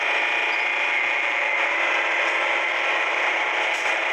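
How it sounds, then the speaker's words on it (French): A cellulite treatment device starts its suction, giving a loud, continuous mechanical whir with a steady tonal hum that runs unbroken from start to finish. "on va pouvoir lancer l'aspiration tout en maintenant la température"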